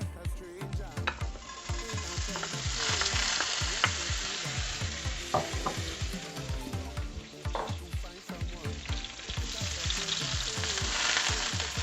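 Five tablespoons of butter sizzle and fry steadily in a warmed cast iron skillet, with repeated stirring and scraping sounds over a constant crackle.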